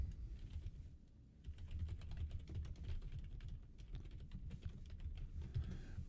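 Steady typing on a computer keyboard, a close, continuous patter of quiet key clicks running throughout with no talking.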